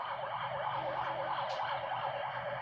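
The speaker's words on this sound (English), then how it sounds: "We'll just wait for the ambulance to go by." Ambulance siren passing along a busy road nearby, a steady wailing tone sweeping up and down, loud and continuous with traffic rumble beneath and no talk.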